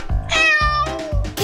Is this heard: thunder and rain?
no